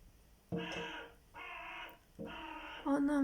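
A crow at a window gives three loud, harsh caws, close by and spaced about a second apart; no knocking stands out.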